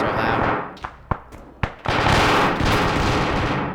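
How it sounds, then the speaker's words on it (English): Gunfire from a military video game: a few sharp, loud single cracks ring out, followed by a dense, sustained burst of rapid shots. "Christ, those shots are loud."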